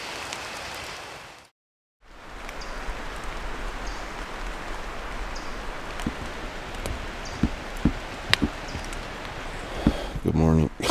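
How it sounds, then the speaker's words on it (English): Steady rain falls at a backpacking campsite in Great Smoky Mountains National Park, a continuous broadband hiss with a brief drop-out near the start and scattered louder drips and taps toward the end. "I'm afraid the rain may chase me into my tent here."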